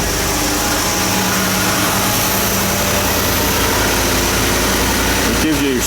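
A car engine runs at a loud, steady idle during a battery starting test, with a constant close rumble that shifts briefly near the end.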